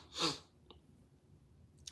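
One sharp, loud sneeze bursts out close to the microphone, followed by quiet breathing and faint small noises.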